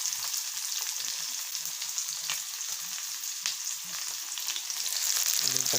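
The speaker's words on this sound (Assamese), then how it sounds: "এতিয়া আমি পিঁয়াজ দিবলৈ গৈ আছোঁ।" Onions hit hot oil in a pan and fry with a steady, bright sizzle that crackles and spits throughout, close up and with no talking.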